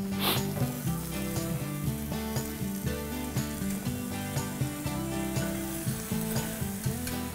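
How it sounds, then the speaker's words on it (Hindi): Tomatoes go into a hot pan for Amritsari dhaba-style paneer bhurji, and a steady close sizzle of frying runs throughout, partly mixed with background music. "ये वक्त है टमाटर डालने का"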